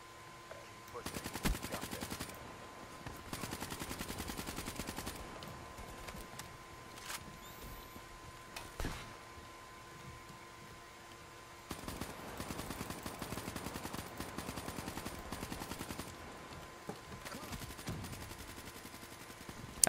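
Bursts of automatic gunfire in Black Ops III multiplayer, rapid crackling volleys recurring throughout at moderate level with short pauses between, a voice speaking faintly underneath.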